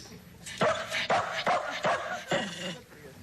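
A dog in a sitcom scene gives a run of short, close whimpering yelps and barks, five or six bursts in quick succession over a soft background.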